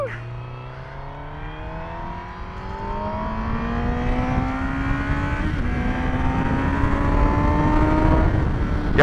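A Honda CBR1000RR motorcycle at full throttle, its engine note climbing steadily in pitch as it accelerates, loud and close.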